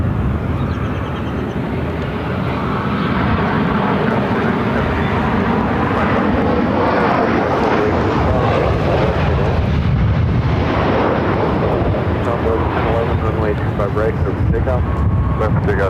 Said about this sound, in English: This is Southwest Flight 2566 coming in from San Antonio on a